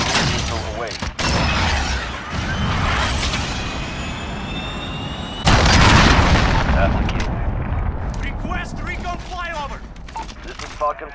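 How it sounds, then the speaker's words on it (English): A cruise missile launches in Call of Duty: Modern Warfare amid loud gunfire and explosions, with a rising whine, then a sudden heavy blast that rumbles on under further shots and distant battle noise. "Cruise missile ready to launch."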